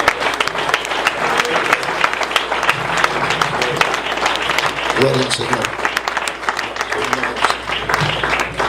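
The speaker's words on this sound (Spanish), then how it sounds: "Den un aplauso fuerte al Dios en poder." A church congregation applauds loudly and steadily in a dense wash of clapping, with a voice speaking over the crowd throughout.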